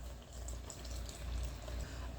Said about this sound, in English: I'm going to pour in milk.